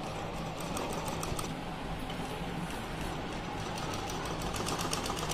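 A sewing machine stitches around a boat neck, a continuous fast, close mechanical rattling of the needle with no pauses.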